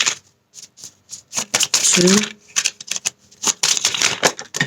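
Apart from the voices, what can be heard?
shuffling tarot cards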